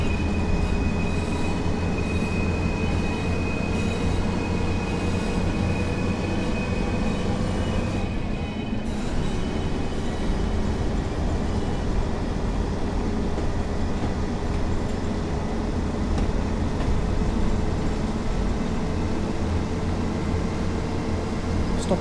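A train in the Train Sim World 4 game rolling along the Blackpool branches toward a station, a loud continuous rumble of wheels and motor with a sustained high whine, a brief dip midway, then the steady drone resumes.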